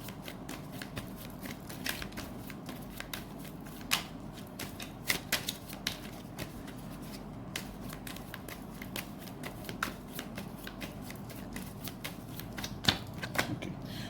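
Tarot cards being shuffled and drawn, a long run of soft papery riffles and flicks with occasional sharper snaps, close and fairly quiet throughout.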